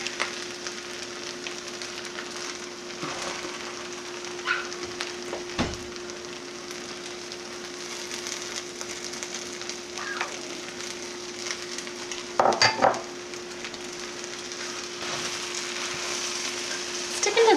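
Kedgeree being stirred and scraped in a hot pan, a steady sizzle under repeated spoon scrapes along the bottom, with a few sharper clinks and knocks, close and continuous.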